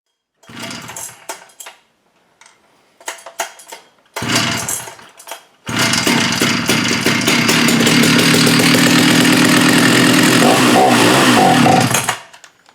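A Jonsereds 70e chainsaw with carburetor trouble sputters through several short, failed bursts, then catches and runs loudly and steadily for several seconds before cutting off.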